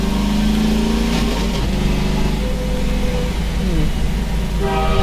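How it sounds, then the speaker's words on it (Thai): A train in the video game Half-Life 2 rumbles and approaches with a steady mechanical drone and shifting engine tones, loud and continuous throughout, with game-like synthetic sound. "โอ้รถไฟรถไฟมา"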